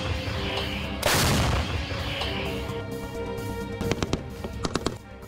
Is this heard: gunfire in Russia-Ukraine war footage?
yes